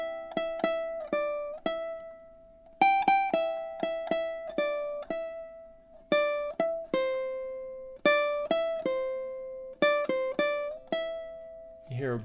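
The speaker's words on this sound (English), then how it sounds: "Here, this I'm playing with legato. It sounds very smooth." A ukulele plays a melody legato, sounding as a clear run of plucked single notes, some sliding smoothly into the next, in short phrases separated by brief pauses, close and alone without any voice.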